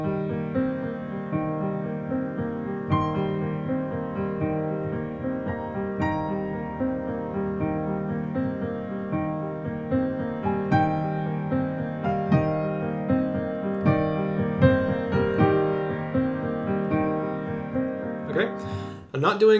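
A melody on an instrument played with deliberately spaced-out notes, single tones and small clusters separated by pauses, moderately loud and continuous over a sustained backing, with no voices.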